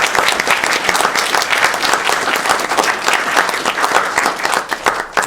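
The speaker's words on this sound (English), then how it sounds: "Can I have a round of applause, please, for everyone?" Wedding guests at a reception applaud during the best man's speech: a dense, loud burst of many hands clapping together, steady and unbroken throughout.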